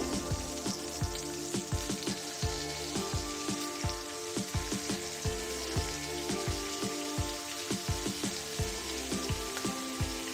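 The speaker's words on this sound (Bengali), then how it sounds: "আবারও মশলাটাকে খুব ভালো করে কষিয়ে নেব" Turmeric, Kashmiri chili powder and salt stirred into a spice masala in a pan for ghugni, with a steady close sizzle and repeated scraping strokes of a spoon throughout, no talking.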